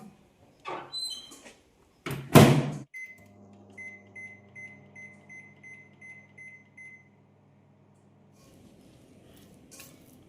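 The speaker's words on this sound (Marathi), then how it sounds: "पाच मिनिटासाठी आपण मायक्रोवेव्ह करून घेणार आहे" A microwave oven cooks sabudana khichdi after a door thump and a few button beeps, then hums steadily with a pulsing tone for several seconds before stopping, followed by quiet handling noises.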